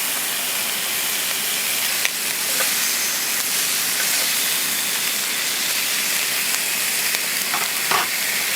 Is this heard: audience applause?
no